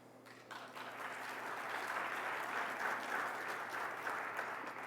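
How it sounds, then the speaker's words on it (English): Audience applause at an SC21 awards ceremony, rising quickly from quiet and holding as a steady, moderately faint wash of clapping, with no talk over it. "please join me in applause one more time"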